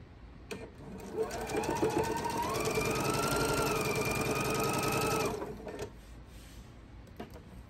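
Sewing machine chain piecing quilt blocks, a steady rapid stitching whir running for about four seconds at close range, with brief clicks before and after.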